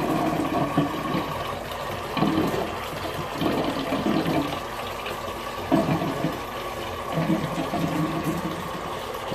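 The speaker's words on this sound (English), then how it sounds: "that's the sound of the siphon finishing as the upper barrel has been emptied" Water from an aquaponics siphon drains out of an upper barrel, a continuous gurgling, sloshing rush with irregular surges, heard close and steady throughout.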